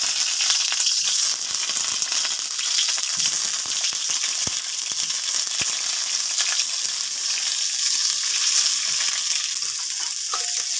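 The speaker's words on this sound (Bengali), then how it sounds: "ভেজে নেবো।" Salted, turmeric-rubbed eggplant slices fry in hot oil in a pan, giving a steady, dense sizzle with faint crackles and a few soft clinks throughout.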